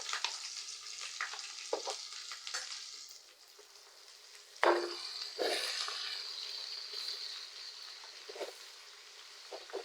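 Chicken pachadi with fresh ginger paste frying in a pan, a quiet sizzle with intermittent scraping stirs, a sharp clatter midway and a brighter burst of hissing after it.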